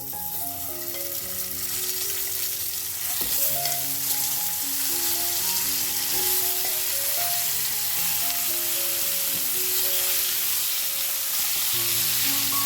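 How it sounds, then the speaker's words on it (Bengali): Boiled eggs with slit whites fry in hot oil, giving a constant bubbling sizzle beneath a background of melodic music. "ডিমটাকেও আমি একটুখানি লাল করে ভেজে নেব"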